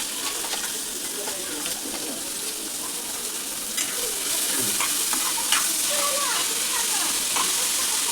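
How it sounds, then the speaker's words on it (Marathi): Chopped onion sizzles in hot oil with popping mustard seeds and cumin for a bitter gourd dish, a loud, continuous frying hiss with stirring scrapes and small crackles throughout. "आता कांदा टाकते."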